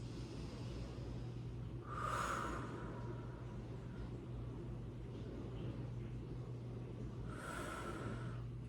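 Two deep breaths during a Pilates mat stretch, each a soft airy exhale rising briefly near the mic at about two and seven seconds, over a steady low background hum.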